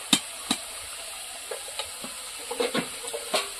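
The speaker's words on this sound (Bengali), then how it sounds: "এবার অল্প করে জল দিয়ে মশলাটা ভালো করে কষিয়ে নেব" Spice paste stir-fried with a little water in a pan over a clay stove, a soft steady sizzle broken by scattered scraping knocks of the spoon, close and fairly quiet, with no one speaking.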